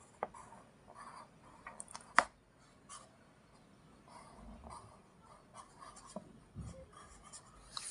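Pen or pencil writing words in a children's workbook, close and quiet, with scratchy strokes coming in short bursts and small taps, plus one sharper click partway through.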